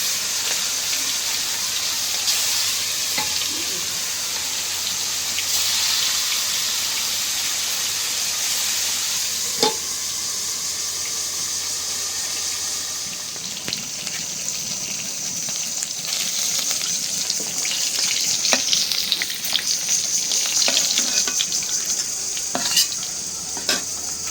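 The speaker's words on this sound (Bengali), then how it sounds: "এই গেল মাছ ভাজা" Pangas fish fries in hot oil in a pan, a steady sizzle with occasional crackles, stirring and clinks of a utensil against the pan, growing busier toward the end.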